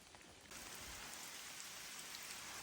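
Rain falls on a hiker on a rocky, cliffy stretch of the Appalachian Trail, a soft, even hiss that swells after a brief lull and holds steady at a faint, distant level.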